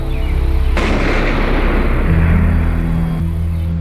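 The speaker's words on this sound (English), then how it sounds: "We heard fireworks" Fireworks go off in a TV show scene, a sudden loud booming burst followed by a rolling rumble and crackle that stays heavy before easing slightly at the end.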